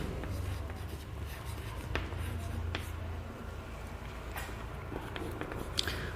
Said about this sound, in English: So let me write the point like this